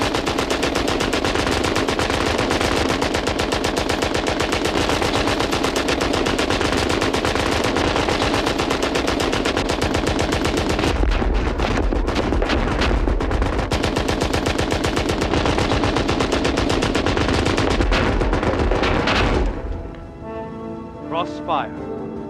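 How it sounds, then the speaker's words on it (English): German machine guns rattle in a World War One battle, a loud, sustained hammering of rapid fire that runs almost unbroken for about twenty seconds before dropping away. "As long as the machine gun's intact, neither side can cross no man's land."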